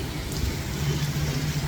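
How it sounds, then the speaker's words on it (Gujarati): Steady rain falling in Jamnagar, a continuous soft hiss with a low hum underneath, even and unbroken throughout. "હજી મિત્રો જામનગરમાં વરસાદ ચાલુ છે."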